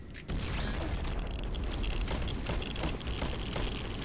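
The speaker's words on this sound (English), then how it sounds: "Okay, I had to reload." A gun reloads in the mobile shooter Pixel Gun 3D, a continuous mechanical clatter of clicks and ratcheting parts that stays loud from start to finish with no speech.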